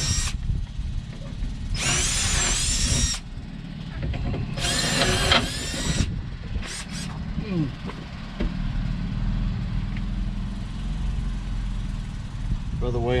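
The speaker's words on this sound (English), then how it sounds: "Alright, drill those puppies out." A cordless drill with a cobalt bit drills out rivets on a 1998 Ford Explorer window regulator, with two loud bursts of whining drilling a few seconds apart, followed by clattering and tool handling and some talk in between.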